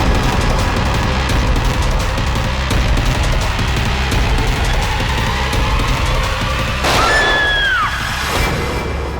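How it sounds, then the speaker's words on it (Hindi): A single sharp gunshot cracks out late in a tense scene from a Hindi crime drama, ringing off briefly over a steady ambient background. "गोली चलने की आवाज।"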